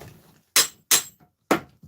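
A hammer strikes an object stuck in place, trying to knock it loose: three sharp, close metallic blows at uneven intervals, a quick pair followed by a third, with no talk.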